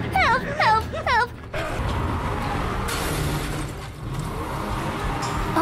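Car engine from the Resident Evil 7 video game, a steady motor drone running through the clip beneath bursts of excited talk at the start.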